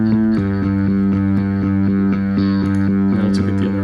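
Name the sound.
bass guitar with distortion effect on RIP setting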